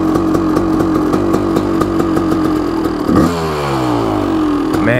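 A Kawasaki KX500 big-bore two-stroke supermoto idles loud and close, with a rapid, uneven pop-pop beat and occasional blips of throttle at a stoplight.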